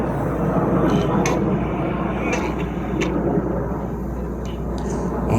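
RAF Red Arrows jets roaring through a loop at a 2019 New York airshow, a broad, distant engine rumble that swells and eases slowly, with faint crowd or wind noise around it.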